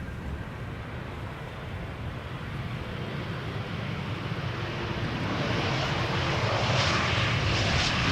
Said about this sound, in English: Another idle reverse landing here